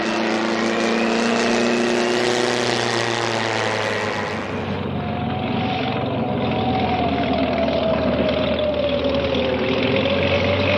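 A propeller airplane lands and taxis, its engine a loud, steady droning roar throughout, the pitch sliding lower as it rolls along the runway, with no voices.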